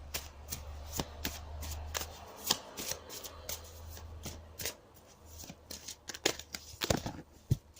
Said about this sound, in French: je vais tirer une carte complémentaire pour les énergies générales